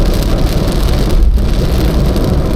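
Heavy, constant roar of rain drumming on a Daihatsu Ayla driving on a toll road, with low road rumble underneath, loud and close throughout.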